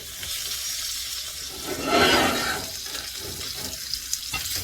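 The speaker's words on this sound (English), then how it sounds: "I'm just going to make that nice sear on the outside." Lamb chops searing in a hot pan give off a steady close sizzle, swelling briefly as the meat is moved and then settling back into a constant crackling hiss, with no one talking.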